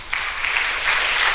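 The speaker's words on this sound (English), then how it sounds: "Big round of applause to Catherine" Applause from an audience at an education summit rises quickly and holds as a dense, even patter of many hands clapping, fairly close and continuous, with no talking.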